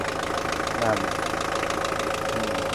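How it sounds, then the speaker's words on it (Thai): Mitsubishi L200 diesel engine idling with a steady, rattly knock, heard close and continuous. "การทำงานของเครื่องยนต์ มิซูมิชิ L 2 0 0"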